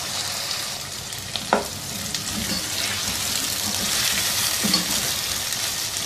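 Sliced onions sizzle steadily in hot oil with whole spices and ginger-garlic paste in a pot, with occasional stirring clinks over the constant frying hiss.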